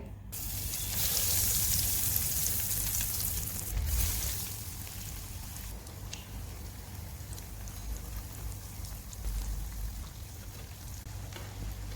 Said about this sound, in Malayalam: ഓയിൽ ചൂടായി വന്നിട്ടുണ്ട് കേട്ടോ അപ്പോൾ നമുക്ക് ഓരോന്നോരോന്ന് ഇട്ട് കൊടുക്കേ